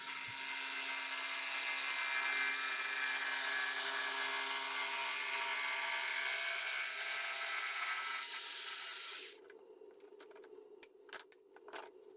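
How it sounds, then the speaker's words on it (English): A jigsaw cuts a curve and a heart shape out of wood for a baby cradle. The saw runs loud and steady for about nine seconds, then stops abruptly, leaving a few faint clicks and knocks. "then we'll just cut out the curve and the heart on the jigsaw"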